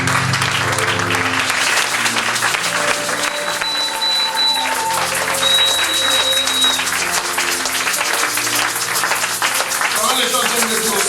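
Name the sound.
congregation applauding to acclaim the Lord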